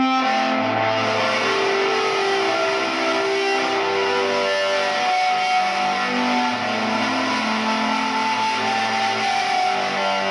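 Rock organ lead tone played through a Boss Katana 50 MkII amp, a loud, driven, sustained run of held notes shifting in pitch without pause, heard alone with no talk.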